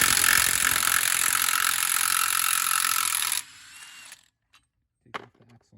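A ratchet turns a 32mm socket on the axle nut of a second-generation Chevrolet Volt, making a loud, dense mechanical whirring for about three seconds. It then cuts off, leaving a few faint clicks and knocks.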